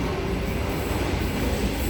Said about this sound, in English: I think that's a Bondi Junction train as well.